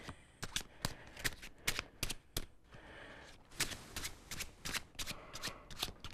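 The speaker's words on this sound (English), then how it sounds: "now I'm going to shuffle the cards" A deck of playing cards being shuffled by hand in a series of quick riffles, each a sharp crisp burst of flicking cards, repeated a dozen or so times with brief pauses between, close and clear with no talk.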